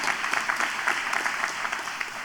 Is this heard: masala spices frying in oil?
no